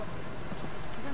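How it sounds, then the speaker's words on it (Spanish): Steady video game rain, from Rise of the Tomb Raider, hisses in a dense, even wash, with a voice faintly audible underneath. "el ruido ese de la lluvia me está cansando un poquito"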